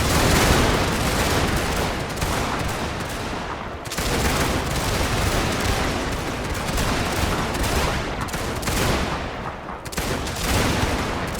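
Dense, continuous musket volleys crackle in a Total War battle, rolling gunfire from massed line infantry with brief dips and renewed bursts, loud and sustained throughout.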